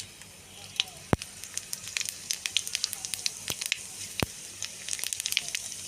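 Black cumin and whole cumin seeds sizzle and crackle in hot oil, a soft frying hiss broken by frequent sharp pops, close and fairly quiet.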